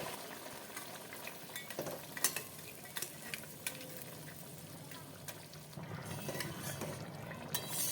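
Radish, eggplant and dried fish stirred in a spiced pan as hot water goes in, a continuous sizzle and bubbling with frequent clinks and scrapes of the spoon against the pan.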